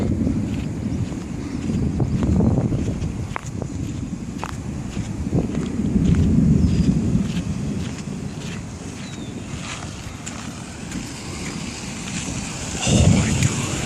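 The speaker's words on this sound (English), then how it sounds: "this is the craziest lightning storm of the year coming at us right now" Deep rolling thunder rumbles continuously beneath steady rain during an intense lightning storm, with a louder crack building near the end.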